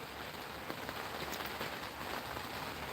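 Steady rain falls across an outdoor slingshot shooting spot, a dense continuous hiss of drops pattering on surfaces with scattered louder splats, no voices.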